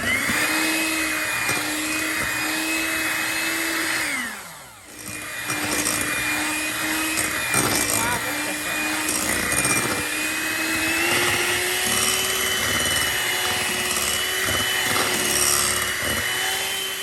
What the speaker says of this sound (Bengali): রেড কালারটা দিয়ে খুব ভালো মতো আবারও বিট করব।